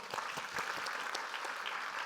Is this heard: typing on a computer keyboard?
no